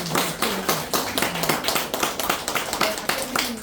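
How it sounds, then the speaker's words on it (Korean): Applause from an academic conference audience welcoming a visiting professor to the lectern, a short burst of fairly sparse, distinct hand claps lasting a few seconds. "큰 박수로 맞이해주십니다."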